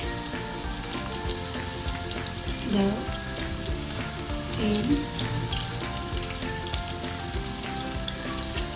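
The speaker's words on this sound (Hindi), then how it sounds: "अब मैं इसमें डालती हूँ लहसुन अदरक का पेस्ट" Garlic ginger paste frying in hot ghee in a karahi for green chicken karahi, a loud continuous sizzle and crackle with brief stirring scrapes, while someone speaks briefly over it.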